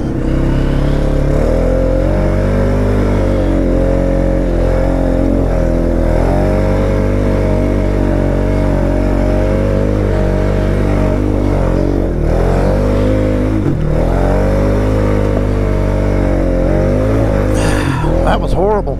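A Polaris Sportsman 570 ATV engine on a winter ride, loud and close, droning steadily with rising and falling revs throughout, voices talking over the engine noise.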